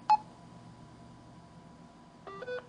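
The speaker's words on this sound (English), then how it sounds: "When your phone is connected to the network extender, you'll hear a short two-tone beep when you dial." A Verizon network extender plays a short two-tone beep through a phone speakerphone on dialing, heard faintly after a brief tone, with a quiet room hiss in between.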